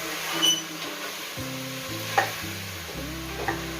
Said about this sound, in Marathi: असं पळीने आपण खालीवर करून घ्यायचे आहेत लिंब जेणेकरून ते खाली लागणार नाही